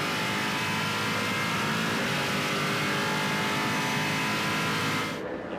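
Trans Am muscle race cars roar around the Mid-Ohio circuit, a loud, dense, sustained engine blare from several cars at once that holds steady and then cuts off abruptly near the end.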